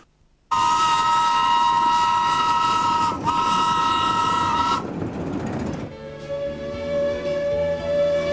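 A minimum gauge steam locomotive, among the most powerful of its kind, runs loud and close on a scenic railway through the North West, its piercing whistle blowing steadily before the engine's rumble takes over.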